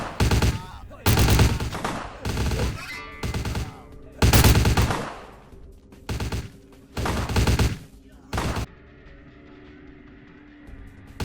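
Enemies fire on each other in Vampire: The Masquerade – Bloodlines, loud bursts of automatic gunfire in repeated clusters separated by short pauses, with a fainter tail of ambient game noise at the end.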